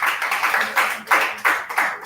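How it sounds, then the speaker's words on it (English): Steady, rhythmic audience clapping at a workshop in Warri, Nigeria, with sharp, evenly spaced claps, fairly close and continuous, with no talking over it. "So you should clap this time"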